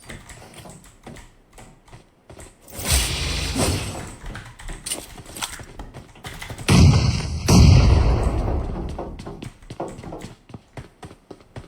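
Two heavy booming grenade blasts go off in the game PUBG Mobile, loud and rumbling, a few seconds apart, surrounded by quick clicking and tapping from the game.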